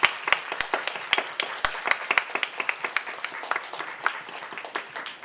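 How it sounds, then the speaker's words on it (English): A modest congregation at a church worship service claps for several seconds, individual hand claps clearly separated into a brisk, uneven patter rather than a dense roar. "shall we bless them with a round of applause and praise our Lord"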